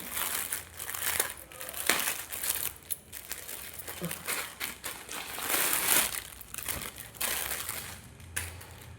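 Crinkling and crushing of plastic packaging as a jute cotton saree is unwrapped, close and continuous with irregular rustling bursts throughout and some faint speech in the background.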